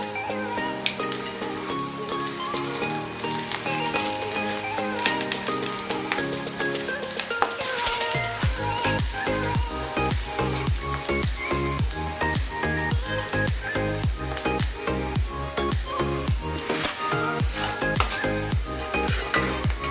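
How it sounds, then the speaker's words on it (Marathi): Onions, peanuts and green chillies fry in a pan for kande poha, a steady sizzle with repeated scraping and stirring clinks of a spoon against the pan, close up, with no talking. "बघू शकता अगदी आपले कांदे, शेंगदाणे, मिरची वगैरे अगदी व्यवस्थितपणे फ्राय झाले।"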